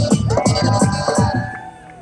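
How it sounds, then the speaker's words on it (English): Crowd at a downtown Las Vegas street show cheering and whooping, a loud dense mass of voices with shouts rising over the din, fading slightly toward the end. "By a round of applause, can we get everybody make some noise?"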